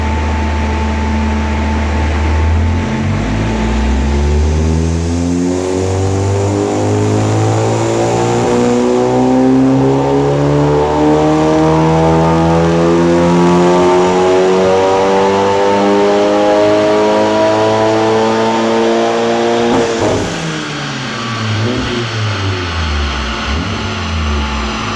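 A tuned Audi S3 8V with a stage 2 setup revs hard on a dyno, engine note climbing steadily for about twenty seconds before a sharp lift-off, then settling back; very loud and close, with no talking.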